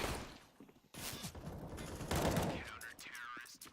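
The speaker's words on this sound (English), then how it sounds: "He got riddled with Galil bullets." Galil rifle fire in Counter-Strike: Global Offensive during a competitive esports match, a few sharp bursts of shots heard with a commentator talking over them.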